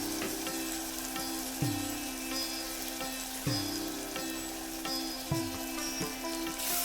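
Ivy gourd curry frying in a pan as sambar powder and tamarind are stirred in, with a steady close sizzle punctuated by repeated scraping and clacking stirs.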